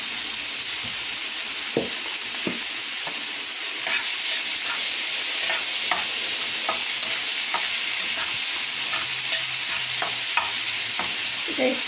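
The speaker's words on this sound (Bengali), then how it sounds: "এটা একটু বাদামি রঙের করে পেঁয়াজটা ভেজে নেব" Onions fry in fish-frying oil with salt, browning under a constant close sizzle, while spoon taps and stirring scrapes come at irregular intervals with no talking.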